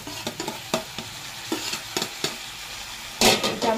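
Tomato pieces for bhindi pulusu fry in a pan while a spoon stirs them, giving a string of distinct scraping knocks over a low sizzle and a louder burst of sizzling near the end. No voices are heard.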